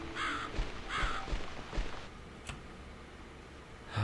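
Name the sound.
crow cawing in the video game The Cat Lady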